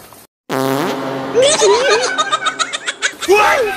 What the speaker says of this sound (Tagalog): Lakasan mo yung utot mo